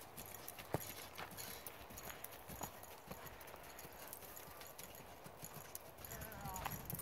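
Horse hooves clip-clop in a steady cantering rhythm on a riding lesson, faint and continuous under outdoor noise.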